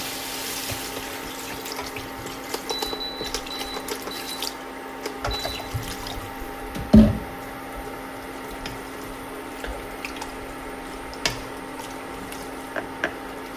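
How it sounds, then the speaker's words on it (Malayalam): Water runs steadily into a pot of chicken curry under a low background hum, with a few faint clinks and one louder knock. "ഇനി അതിലേക്ക് ആവശ്യത്തിനുള്ള ഗ്രേവിക്കുള്ള വെള്ളം ചേർത്ത് കൊടുക്കണം"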